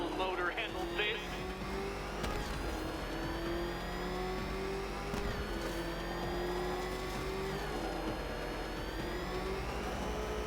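The Batmobile's engine revs and drones in Batman Arkham Knight on Bleake Island, a loud, continuous whine that shifts pitch as it accelerates, with game voices talking over it.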